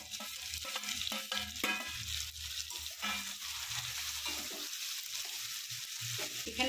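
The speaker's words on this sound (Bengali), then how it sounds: "এবারে ডিম ভুজিয়াটা দিয়ে দিলাম এর মধ্যে।" Scrambled egg is stir-fried into chicken chowmein in a hot pan, a steady close sizzle broken by repeated scraping and tossing strokes of a spatula.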